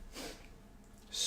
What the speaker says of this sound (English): Sorry for the jump scare, if that was a loud sneeze.